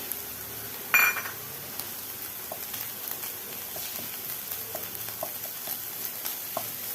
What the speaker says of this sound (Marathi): ह्यामध्ये थोडेसे आपण ड्रायफ्रूट्स परतून घेऊया